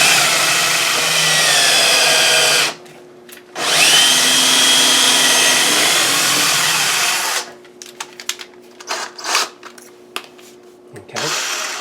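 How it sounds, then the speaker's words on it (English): A power drill bores into a kitchen cabinet during installation, whining loudly and steadily in two long runs with a short pause between, then giving way to scattered clatter and handling noises. "a drill works better if you drill in a little bit, then you pull it out"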